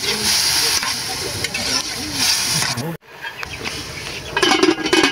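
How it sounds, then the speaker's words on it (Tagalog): Snails sautéing in a pan with soy sauce and coconut milk give a close hiss and steamy sizzle. A sharp break comes partway through, then a louder sputtering burst follows. Voices sound faintly in the background. "gigisa na nga natin itong mga kuhol"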